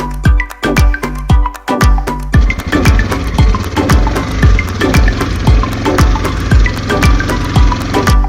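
A motorcycle engine runs close by on test, pulsing with rapid, evenly spaced firing knocks that sound loud and rough, with a brief stuttering start before settling into a steady beat.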